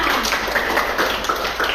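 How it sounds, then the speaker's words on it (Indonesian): Classroom applause for a student group, a dense patter of many hands clapping together, steady and fairly loud across the whole moment. "Ayo, tepuk tangan untuk kelompok 3."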